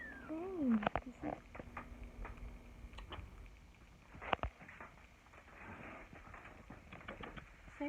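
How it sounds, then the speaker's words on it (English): A cat meows several times up close, with rising and falling cries and a few sharp knocks against a surface between them, all fairly quiet. "my cat is knocking"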